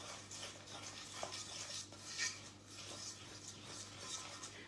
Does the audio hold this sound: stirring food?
yes